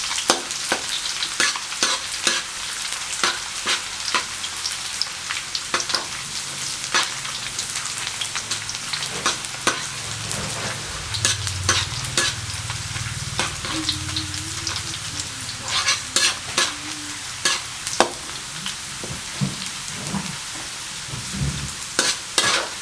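Garlic fries in hot oil over medium heat for a pork crackling chili paste, a constant bubbling sizzle punctuated by frequent crisp spatula scrapes and clicks as it is stirred often, close and fairly loud, with no talking.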